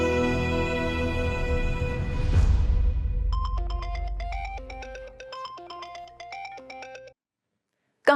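A phone ringtone plays a repeating melodic pattern of bright tones during an outgoing call, preceded by a swelling rumble and ending abruptly in a brief silence before a sharp cut.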